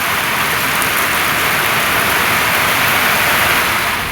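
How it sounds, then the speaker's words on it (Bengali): Rain pours steadily outside a home kitchen, a dense, even hiss of drops on surfaces that lasts throughout, with no voices. "সেই জন্য বৃষ্টি পড়তেছে এই যে"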